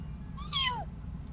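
A single short meow voiced by a person imitating a cat, rising then sliding down in pitch, heard close over a low steady background hum.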